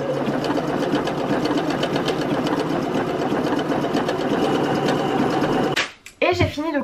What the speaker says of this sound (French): Et j'ai fini de coudre donc les extrémités de mon truc